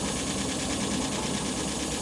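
A recycled 5.7L Hemi V8 running on 93-octane fuel from a fuel cell, a steady dense mechanical drone with rapid even firing pulses, loud and close with no voices.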